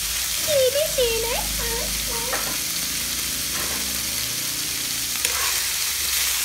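Chili stir-fried in a hot pan for igado gives a steady broadband sizzle throughout, with a voice speaking briefly near the start and faint clinks later.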